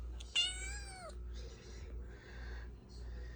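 A cat lets out one clear, drawn-out meow close by, followed by softer fainter mewing sounds, all over a low steady hum in a room where a Simplex 4004 fire alarm panel is set up.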